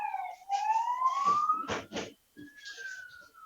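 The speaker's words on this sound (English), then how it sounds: "Boy, that siren is really loud there." A police siren wails through an open window in a large city, its pitch rising and then holding steady, loud and close, with a short gap near the end before it resumes.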